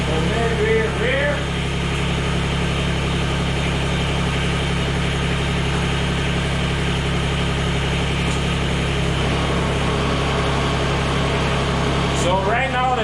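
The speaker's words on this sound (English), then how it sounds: "So right now the PTO shaft is turning." A Mahindra eMax 20s HST compact tractor idles with its PTO shaft turning, a loud, steady low engine drone that stays constant throughout, with a brief clatter near the end.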